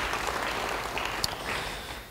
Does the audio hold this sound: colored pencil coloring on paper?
no